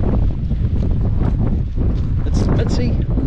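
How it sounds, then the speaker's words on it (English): Strong wind buffets the microphone on Chatham Island, a loud continuous rumbling roar with gusty flutter throughout, warm windy weather outdoors. "It's windy. It's not cold, it's warm, but just windy."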